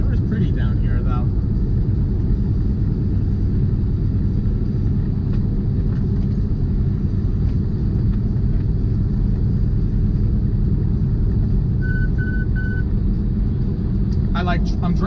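A semi truck drives a Florida highway, heard from inside the cab as a steady, loud engine and road rumble throughout, with a brief run of three short electronic beeps near the end.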